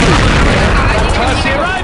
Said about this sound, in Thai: ระเบิดยัดเข้ามาแล้ว